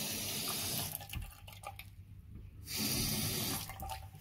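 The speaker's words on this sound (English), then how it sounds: "turn my water back on." Water runs from a tap into a sink after a leaking tap is repaired, a steady splashing flow that briefly softens and changes pitch midway before gushing fully again.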